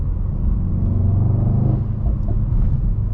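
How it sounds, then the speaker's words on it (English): A 2018 Mercedes-AMG E63S makes a steady deep engine rumble under acceleration, heard from inside the car, close and continuous with no talking; no distinct blow-off burst stands out. "And you get a nice little blow off too when you let off the gas."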